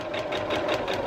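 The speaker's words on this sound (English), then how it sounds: "coming over to my machine, I'm going to sew, putting my needle down, I'm going to sew on the C2, very short stitch" A sewing machine runs a very short stitch for foundation paper piecing, a steady rapid mechanical whir with a fast even rhythm, close and moderately loud, with no voice.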